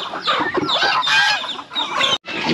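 Native chickens on a farm cluck and squawk continuously in a dense, close chorus, with one brief gap near the end.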